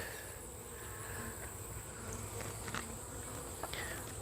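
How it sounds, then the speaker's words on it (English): A faint, steady hum of bees in a hive box drones low and close, with a few light taps and rustles scattered over the buzzing. "But there's a handful of bees in there."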